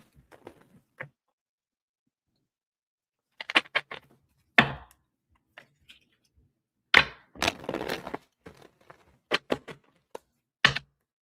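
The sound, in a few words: shuffling tarot cards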